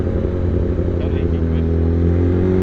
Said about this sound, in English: I've got a vibration from the front end of the bike, and I think it's my screen